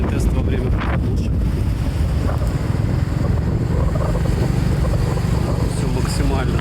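Wind buffets a smartphone microphone outdoors, a loud continuous rumbling roar that masks everything else for the whole stretch.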